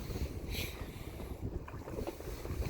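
Steady wind buffeting at the sea shore in Pohang during squid eging, a constant low roar and rumble with no clear breaks, moderately faint and uninterrupted by speech.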